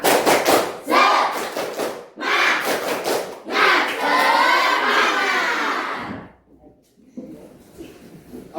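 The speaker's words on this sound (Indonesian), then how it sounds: "Tepuk semangat." A school class does a rhythmic spirit clap together, loud group chanting and shouting mixed with clapping in bursts for about six seconds, then a quieter room with a few voices.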